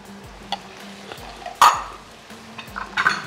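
Celery, peppers and tomatoes go into a pan with shrimp and are stirred, giving a soft sizzle, a few utensil scrapes and light clinks against the pan.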